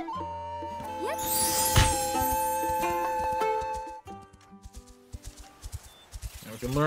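Horse hooves clip-clop in the Zelda: Echoes of Wisdom game, set against game music and chimes. Steady, moderately loud hoofbeats fade into sparser, quieter steps.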